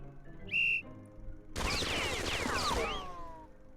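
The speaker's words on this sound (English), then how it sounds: "The next time a whistle blew" A short, shrill whistle blast sounds once, followed after a pause by a loud burst of gunfire and clatter from the battle video game Ciconia: When They Cry.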